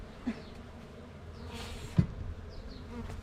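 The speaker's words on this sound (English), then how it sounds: "they're already making buzzing noises" Honey bees buzz in a bee garden at the Hatta Honey Bee Centre in Dubai, a steady close droning hum with a couple of soft knocks and no talking.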